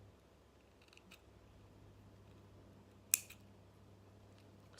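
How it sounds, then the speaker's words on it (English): A small cutter snips the thread tail of a handmade seed-bead necklace, one sharp, crisp click standing out against a quiet room with faint handling noise. "I'll take my cutter and cut out the tail"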